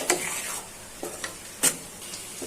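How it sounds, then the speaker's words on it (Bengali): Onions fry in mustard oil in a pan, a light crackling sizzle broken by a few sharp stirring scrapes and clinks, close and fairly quiet with no talk. "পেঁয়াজটা ভাজা হয়ে গেছে।"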